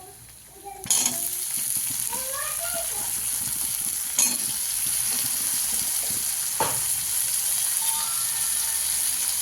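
Finely chopped potatoes dropped into hot oil for a potato bhaji, setting off a loud steady sizzle and frying hiss, with a few clatters and stirring knocks from the pan over the continuous crackle.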